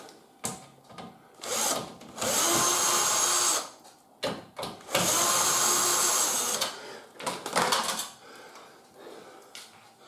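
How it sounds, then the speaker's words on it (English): A power tool whirs in two long bursts with short clicks and stops between them, driving screws out of the pump on a Samsung washing machine; close and fairly loud, with no voices. "So I'm going to undo these 2 screws."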